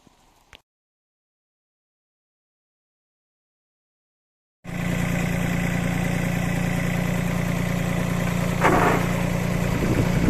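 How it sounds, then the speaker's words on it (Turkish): A 100-litre walnut peeling machine driven by an engine shaft starts after a few seconds of silence and runs as a steady, loud mechanical drone for the rest of the clip, with no one talking. "100 litrelik soyma makinamızı şaftlı şafttan yararlanarak çalıştıracağız."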